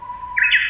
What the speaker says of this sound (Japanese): 鳥です。